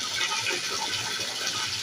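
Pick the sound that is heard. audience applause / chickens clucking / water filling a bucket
water filling a bucket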